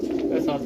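Domestic pigeons on a rooftop in Barnala, Azad Kashmir, give a brief, steady, close coo, low and throaty, in a single short burst.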